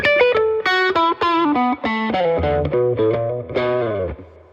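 Upgraded Epiphone Les Paul Studio electric guitar played clean and alone, a run of distinct picked notes and chords ringing with sustained harmonics, ending on a let-ring chord.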